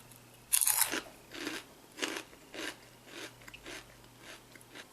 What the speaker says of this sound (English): while I'm chewing them